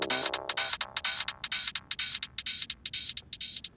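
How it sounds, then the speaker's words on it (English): High-pass filter swept over a techno track by a DJ, thinning the low end while a steady, rapid pumping pattern of broadband hits and noise bursts keeps going, loud and alone. "A common one is the high pass filter"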